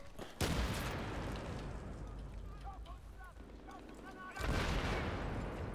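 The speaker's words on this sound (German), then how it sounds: "Die Granate!" Gunfire and explosions from a Battlefield 3 match: a loud, booming blast near the start, a long stretch of rumbling battle noise, then another heavy burst of explosive fire near the end.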